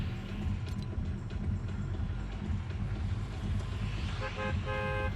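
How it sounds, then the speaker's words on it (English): The Fortnite Battle Bus sounds its horn, a short tonal honk near the end over a continuous low engine and wind rumble, with no talk. "we got the honk right at the start when players can jump"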